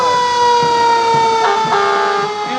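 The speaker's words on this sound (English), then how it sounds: "And the siren works." A fire department fire truck siren wails loudly and steadily at a Christmas parade, its rising and falling tone sounding up close with a few short bursts layered over the sustained wail.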